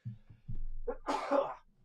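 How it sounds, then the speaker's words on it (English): A single sharp sneeze bursts out after a few short breathy catches, close and fairly loud, from a person hosting a live boxing watch-along broadcast. "I'm sneezing live on air."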